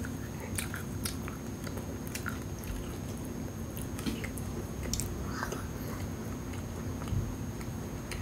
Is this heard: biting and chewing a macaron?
yes